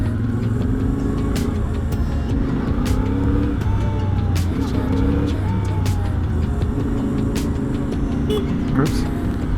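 A CF Moto Ibex 450 motorcycle engine hums and revs steadily on the move, with rising and falling pitch and a constant noisy rush of wind, while someone talks throughout.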